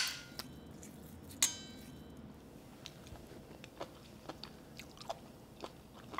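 Close, crisp crunching bites and chewing of a cold sweet and sour Korean seaweed salad, quiet and irregular, with a few sharper crackly snaps standing out over a soft background.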